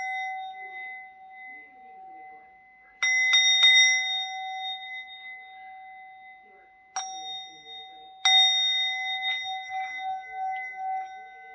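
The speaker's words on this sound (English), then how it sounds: "I'll shake my chimes over them to cleanse them" Metal chimes shaken over tarot cards ring out in several bright, clear strikes, each leaving a long, sustained tone that decays slowly in a quiet room.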